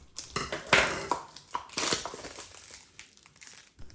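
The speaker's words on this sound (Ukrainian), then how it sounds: "пляшка має бути рівна, тому зрізаємо нижню та верхню частини і залишаємо лише ту, де є етикетка" A plastic bottle being cut to remove its top and bottom, heard as close crinkling and crunching plastic in irregular bursts, with no talking.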